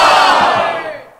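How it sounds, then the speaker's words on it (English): A short soundboard crowd-cheer effect of cheering and whooping that fades out quickly within about a second. "We get a cheer or some kind."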